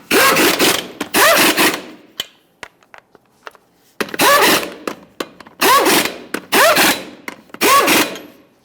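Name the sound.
impact wrench running on 22mm lug nuts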